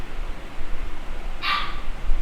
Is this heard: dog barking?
yes